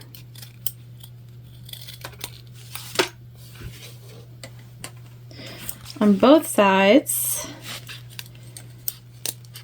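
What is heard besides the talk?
trimming zipper ends with scissors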